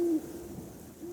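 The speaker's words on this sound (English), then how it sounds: "An owl whoos nearby." An owl hoots close by on a rainy night, two low, steady hoots separated by a short pause, clear against a quiet background.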